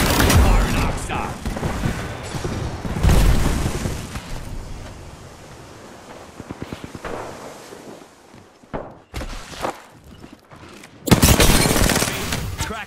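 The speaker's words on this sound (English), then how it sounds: "Knuckle Cluster's firing." A Knuckle Cluster ability in the Apex Legends video game fires in rapid bursts of clustered blasts and crackling detonations, mixed with other loud weapon fire and game effects, with voiced callouts heard throughout.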